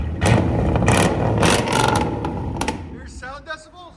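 A 1999 Chevy Tahoe with a 5.7L V8 and a straight-piped exhaust revs hard in several loud, close bursts, then settles to a rough idle while people talk.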